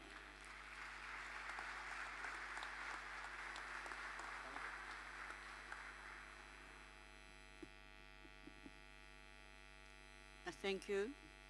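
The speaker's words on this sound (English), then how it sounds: "Please give a round of applause to the head of that particular program" Graduation ceremony audience applauding the head of a teaching program, a broad wash of hand clapping that swells and then fades out over a steady mains hum, followed by a brief spoken voice at the end.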